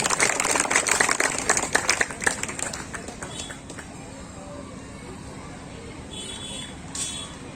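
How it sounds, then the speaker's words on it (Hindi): Crowd applause welcoming a team at a Durga Puja gathering in Bhatgama, loud and dense at first, then thinning into scattered claps and faint background noise. "आप तालियों की ग्राहक से इनका स्वागत करें, तालियों में आप कंजूसी कर रहे हैं।"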